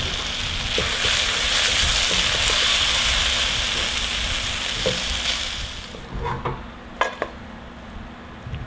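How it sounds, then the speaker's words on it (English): Mushrooms fry in a pan with a dense, crackling sizzle that fades partway through, followed by a few sharp clinks of a utensil against the pan; no one speaks. "This is your very basic recipe for fried mushrooms."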